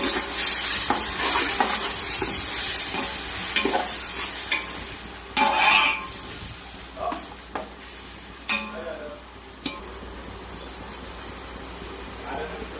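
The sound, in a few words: stirring biryani masala with coriander in a pan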